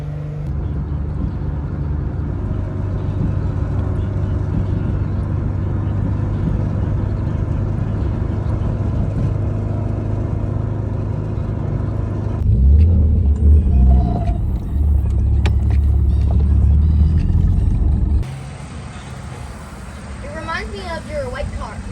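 A BMW E36 M3 rumbles along with a deep, steady exhaust drone heard from inside the car, growing louder midway, while people talk over it.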